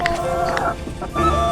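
Hens clucking in a rooftop coop, several close, irregular clucks and short calls over low background noise.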